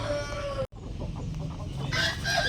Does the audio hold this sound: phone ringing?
no